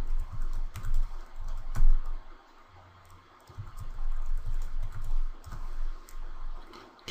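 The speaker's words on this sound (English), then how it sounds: "So let me just type one in." Computer keyboard typing while a password is entered during LANGuardian software setup, a steady run of light key clicks in bursts with a short pause midway, close and clear with no talking.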